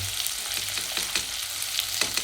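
Masala spices frying in oil for a home-style egg curry, a bright close sizzle broken by quick, repeated stirring scrapes.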